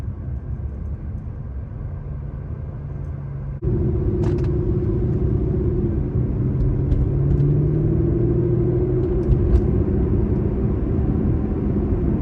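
A 2014 Aston Martin Vanquish engine rumbles low and steady while driving through town, getting heavier partway through at half throttle, with faint clicks and ticks on top.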